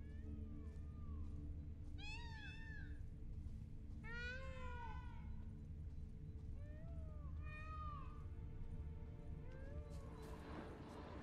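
Peacocks in The Witcher 3 give repeated loud, wailing cat-like calls in short bursts across the clip, over a steady game ambience and low background hum.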